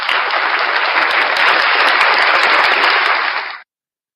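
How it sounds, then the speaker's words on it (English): Dense, loud audience applause on a livestream show rolls steadily for several seconds, then cuts off abruptly into silence. "round of applause for Flat Dirt"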